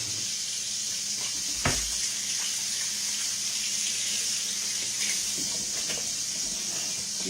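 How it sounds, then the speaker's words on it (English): Tap water runs steadily into a bowl being filled about halfway, a constant close hiss of flowing water with a few brief knocks and no talking. "fill it up with about halfway with some water"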